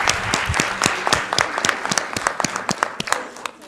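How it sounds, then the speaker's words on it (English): Conference audience applause for a speaker, loud and close, with distinct individual claps in an uneven patter throughout. "Sudarez another round of applause?"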